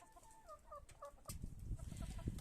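Broiler hens clucking nearby, with a few soft rising clucks followed by a rustling, scratchy burst of movement, fairly quiet and with no talking.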